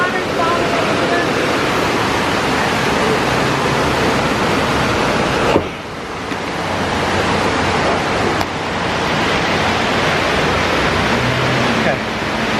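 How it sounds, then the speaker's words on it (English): Waterfall at the Red Jasper Beer Garden near Pigeon Forge, a loud, steady broadband rush of falling water filling the whole span, with two brief dips. "Look at that waterfall over there."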